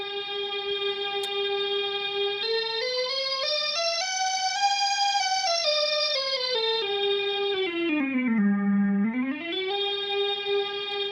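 A Strymon NightSky pedal runs its sequencer through reverb in a major scale, giving a sustained, shimmering synth tone that glides smoothly up and down in pitch, held loud and continuous throughout with no talking.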